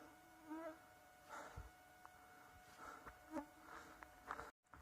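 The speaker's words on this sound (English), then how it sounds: "I can't believe how many mosquitoes are out right now." Mosquitoes swarm around a hiker on the Pacific Crest Trail, thin whining buzzes that swell and fade as they pass close, faint over a quiet outdoor background.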